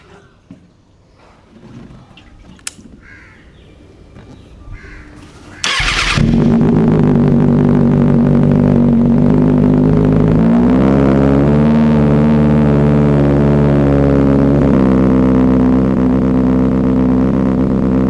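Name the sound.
Kawasaki ZX6R motorcycle with Arrow Race Pro titanium exhaust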